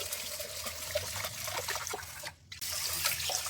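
Rice and urad dal being washed in water for idli batter, close splashing and sloshing with trickling water, a brief lull midway, then steady swishing again.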